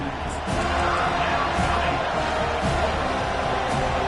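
A stadium crowd at a Florida State versus Tennessee football game roars steadily behind the defense on third down, a dense, sustained wash of cheering that rises slightly after the first half second and holds loud throughout.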